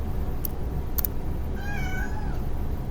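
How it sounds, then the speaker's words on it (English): A cat in the video game Breath of the Wild gives a single drawn-out meow, clear and close over a steady ambient game background with a couple of brief clicks beforehand. "Hi, cat."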